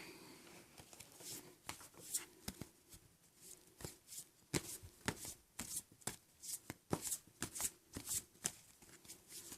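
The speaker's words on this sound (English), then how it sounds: "I will also take some card for you from the past life oracle card" Past life oracle cards shuffled by hand, a steady run of crisp riffling snaps and soft slaps repeating close up for the whole stretch, with no talking.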